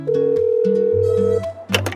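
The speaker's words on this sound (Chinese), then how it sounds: "我给用户打个电话。" Calling a customer produces a loud, close sequence of steady electronic phone tones that shift in pitch, then give way to faint handling noise.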